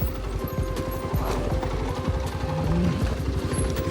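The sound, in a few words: mule hooves clip-clopping on a mountain trail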